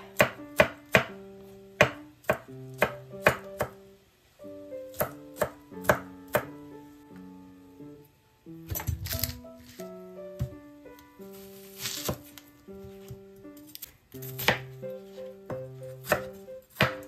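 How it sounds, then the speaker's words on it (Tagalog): Knife chopping garlic on a board in quick bursts of sharp close taps, separated by short pauses, with a denser flurry of cuts midway and no talking. "chop the garlic"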